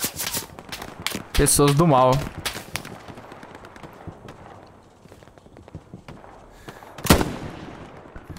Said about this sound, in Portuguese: Ai, tão atirando em mim.